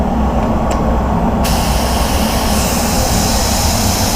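A steady, loud hiss of a spray gun applying basecoat to a Ford Focus quarter panel runs throughout, growing brighter partway through, with a low background rumble.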